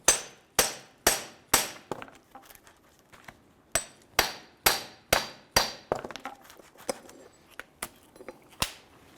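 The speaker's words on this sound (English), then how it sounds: "Nothing a couple of whacks with the hammer won't fix." A hammer strikes a stuck metal engine mount bracket on a Toyota Camry again and again, loud sharp clanging blows in quick bursts with short pauses between, each hit ringing briefly.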